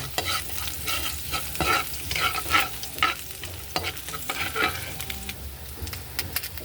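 Garlic sautéing in melted margarine for an afternoon snack: a constant, near sizzle broken by frequent scraping and stirring strokes in the pan, with no speech.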